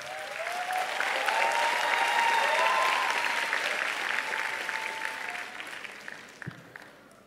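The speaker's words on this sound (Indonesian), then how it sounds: "mari kita berikan tepuk tangan yang meriah kepada Ketua KPU Pak Hasyim Asyari" An audience at a national climate forum applauds the election commission chair with loud, sustained clapping that swells, holds for several seconds, then gradually thins out.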